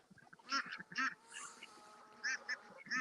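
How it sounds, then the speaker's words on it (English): A runner duck on a farm gives a run of nasal, kazoo-like quacks in short bursts with brief pauses, close and clear with no talking. "This is one of our runner ducks as part of the Kazoo band"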